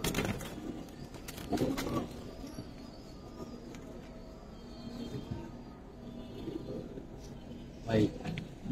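A male silver pankhi pigeon coos softly in low, rounded bursts beneath someone talking close by, with a louder burst of cooing near the end.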